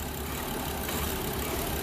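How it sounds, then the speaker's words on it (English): A 2011 BMW 535i engine idles and surges during a Valvetronic break-in, giving a steady, close mechanical drone with a slight swell partway through and no one talking. "The engine is at idle."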